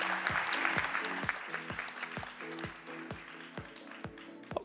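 Audience applause at a startup pitch competition final in Tokyo, steady and moderately close, with a musical jingle of repeated tones playing underneath throughout.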